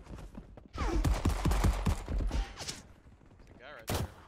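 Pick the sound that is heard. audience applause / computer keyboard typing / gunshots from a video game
gunshots from a video game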